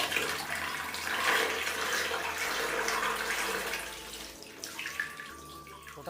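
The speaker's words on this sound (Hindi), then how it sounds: "ये यहाँ जलाभिषेक कर रहे हैं, जो कि लगातार यहाँ 1 बाल्टी पानी को अभी इस शिवलिंग में अर्पित कर चुके हैं" Water from a bucket poured over a Shiva lingam at the ancient Deul Kevtin temple in Pujeripali, a steady splashing, running gush that continues for several seconds, close and fairly loud, with no speech.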